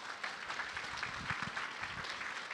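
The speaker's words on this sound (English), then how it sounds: "So how about a round of applause for them?" Audience applause at a charity children's fashion show, a dense steady wash of clapping from a crowd over a few seconds, with faint low murmurs underneath.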